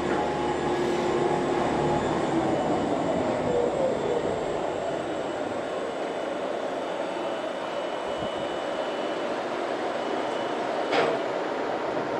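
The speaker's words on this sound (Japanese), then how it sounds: "すごいな、モノレールみたいな、本当に。" A monorail-like shuttle car at a Hoshino Resorts hotel in Kirishima runs along its rails with a steady, moderate rumble and hum, a faint squeal coming and going over about twelve seconds.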